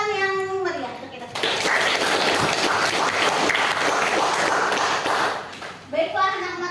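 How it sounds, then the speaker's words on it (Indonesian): Loud, sustained clapping from a classroom group fills most of the clip, bracketed by brief children's voices at the start and end. "Kita tepuk tangan yang meriah untuk kita."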